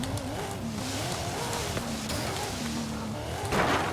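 Race cars in Forza 5, an Eclipse leading a red Mazda RX-7, roar steadily with a wavering engine note, rising into a louder rush near the end.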